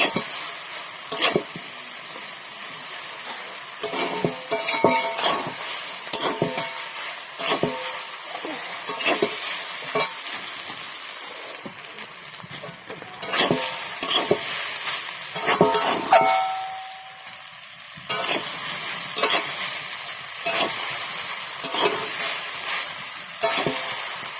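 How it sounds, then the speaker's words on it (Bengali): Vegetable chow mein is stir-fried in a kadai, with a loud, continuous sizzle under repeated scraping and clattering of the utensil against the metal pan. A brief quieter stretch falls midway, and the frying stays close and steady throughout. "এবারে চাউমিনটা দিয়ে দেবো। দিয়ে ভালো করে আমি নাড়িয়ে চাড়িয়ে নেবো।"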